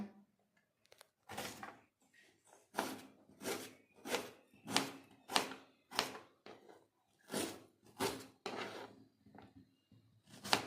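A knife chops onions and tomatoes finely on a board for chicken gravy: crisp, rhythmic thuds in steady strokes after a short quiet start, close and clear with no talking.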